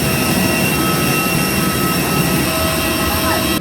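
Steady, loud engine roar from a small airplane at Langkawi airport on a Malaysian island fills the whole stretch, a broad constant drone heard from close range with no gaps.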